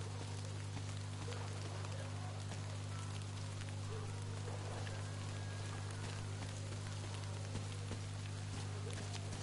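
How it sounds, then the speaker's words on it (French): Steady rainfall in the game Metro Exodus patters softly under a constant low electronic hum, even and unbroken for the whole stretch. "Pourquoi il neige pas ? Il pleut."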